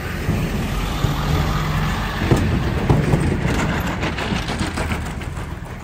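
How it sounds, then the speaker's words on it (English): A car passes along a Brooklyn street, a steady broadband engine and tyre rush that stays fairly close and level throughout, with no voices. "Let's wait this other car go by"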